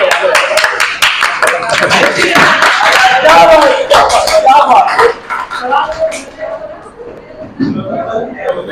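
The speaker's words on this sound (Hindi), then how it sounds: "तालियां बजाना भाई, तालियां बजाओ, तालियां बस।" A group of people clapping hands during a class, a run of loud, uneven claps close by mixed with chatter and voices, thinning out in the last seconds.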